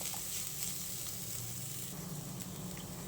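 Grated coconut fries in a spoonful of ghee in a pan, giving a soft, steady sizzle and crackle with faint stirring scrapes, quiet and uninterrupted.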